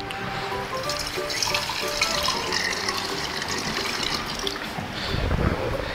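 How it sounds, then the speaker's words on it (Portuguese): 300 ml of water is poured into a glass bottle, a continuous close gurgling and trickling fill that runs steadily for several seconds with a brief louder splash near the end. "o que vamos fazer é colocar as 300 ml de água dentro da garrafa de vidro"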